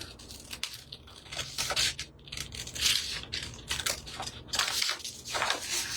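Paper being cut out around a Frida-inspired figure with scissors, giving irregular crunchy snips and crinkling rustles at close range, steady over the whole stretch with no talking.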